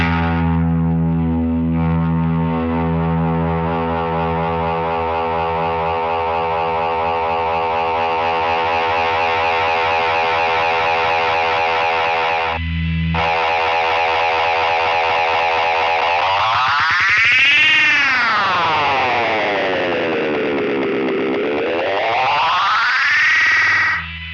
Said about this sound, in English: This is where we get that real cool 60s oscillating tape machine craziness.